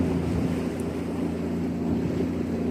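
A boat motors along at about a quarter throttle, around 9 knots, near the Corryvreckan off the Scottish coast, giving a steady low engine drone mixed with wind buffeting and water rushing past the hull.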